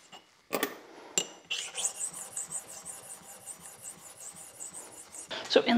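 A metal tool is rubbed back and forth across a sharpening stone in a machine shop, a series of quick, rhythmic rasping strokes close to the microphone, after a few sharp knocks at the start.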